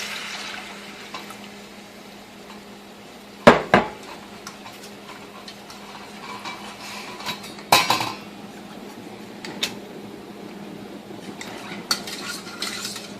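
Utensil stirring cold milk into a roux in a pan, repeated metallic scrapes and clinks against the pan with a few louder knocks, close and alone without talk.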